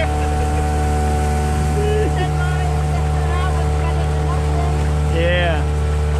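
A 9.9 hp Yamaha outboard motor drones loudly and steadily throughout on a fishing boat carrying three people, with faint voices and brief whistling tones riding over the engine noise.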